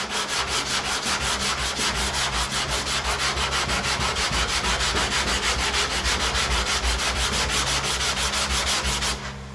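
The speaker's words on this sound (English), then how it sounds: "as you're blocking and sanding" Steady, continuous rasping of a block sanding filler, rhythmic back-and-forth strokes at close range, uninterrupted until a brief stop at the end.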